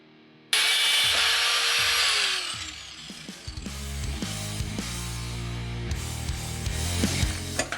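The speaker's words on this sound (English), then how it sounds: "just going to take the grinder here and we'll get this cut off" An angle grinder spins up and cuts through the end of a brake cable housing during a rear disc brake conversion on a 3rd-gen 4Runner, a loud high whine that drops in pitch and rattles and scrapes as it bites.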